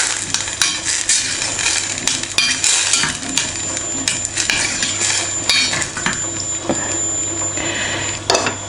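A spoon clinks and scrapes around a pot of kidney beans being stirred, a busy run of metallic taps and knocks with no talking.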